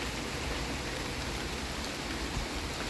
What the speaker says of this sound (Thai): นี่บรรยากาศยามเย็น ฝนกำลังชุ่มช่ำเลยค่ะ